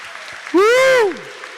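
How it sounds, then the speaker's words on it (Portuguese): A church congregation applauds for Jesus during a Sunday homily, a steady background patter of clapping, briefly overlaid by one loud, drawn-out shout from a man nearby. "dê uma salva de palmas para Jesus"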